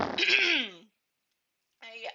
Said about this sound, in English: am so sorry that I keep clearing my throat